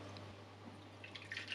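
Half a cup of lukewarm water poured into a mixing bowl while making black sesame naan dough with yeast, a faint trickle and light dripping that grows a little louder toward the end, alone with no talk.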